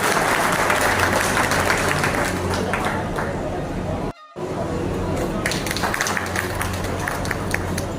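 Audience applause at an Indian community honour ceremony and gathering of gemstone carving artists, a steady dense wash of clapping that runs loud throughout with a brief dropout near the middle, voices mixed in.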